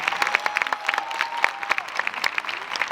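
A crowd claps briskly at a 2024 Innovations High School graduation ceremony, with individual hand claps standing out crisply in a moderately full round of applause that carries on evenly throughout.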